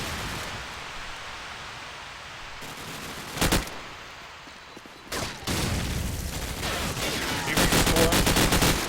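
Gunfire in a Call of Duty 4 Promod competitive match, with sharp close gunshots and bursts of rapid fire over steady background game noise, building into dense volleys near the end.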